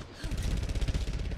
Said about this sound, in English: there are gunshots and stuff going down here already